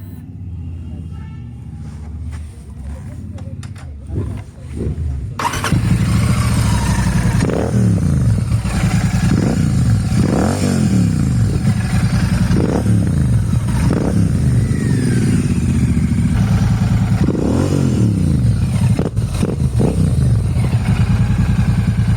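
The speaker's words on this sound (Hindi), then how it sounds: "और अब मैं आपको एग्जॉस्ट नोट भी सुना देता हूँ इसका कि कैसा साउंड करता है" Royal Enfield Shotgun 650 fitted with a Rhino racing exhaust, revved while stationary: a loud, close rumbling idle broken by repeated rising throttle blips at a steady rhythm, with no talk over it.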